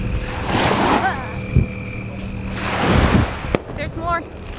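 Ocean waves wash onto a beach during a Fourth of July outing, with broad surges of surf rising and falling twice across the span, wind buffeting the microphone and people's voices chattering and calling out over the water.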